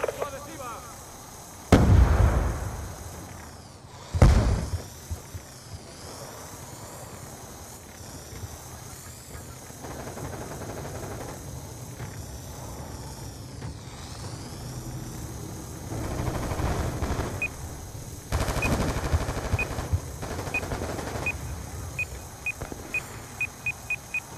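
Video game scene with an RC-XD remote-control car explosive: two sharp, loud blasts early on over a steady engine-like hum, then continuing game noise and scattered pops.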